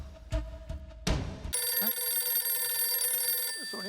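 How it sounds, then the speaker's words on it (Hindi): A mobile phone rings nearby with a steady, repeating electronic ringtone that starts after a few brief knocks and rustles and carries on loudly to the end. "तेरा फोन बज रहा है"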